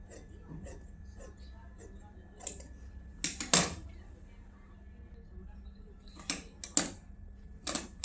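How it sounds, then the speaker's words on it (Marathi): Scissors cut through a saree in a straight line, giving a few sharp snipping bursts with quieter gaps, close and moderately loud over faint room hum. "ही दुसरी साडी कट करून घेते सरळ एक रेषेत केलं ना बरोबर टीप बसते"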